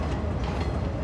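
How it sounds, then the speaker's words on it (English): A cargo train in the city-building game Cities: Skylines 2 rumbles steadily with a dense, low rolling rail noise, close and continuous without any talk. "Why is the cargo train going there?"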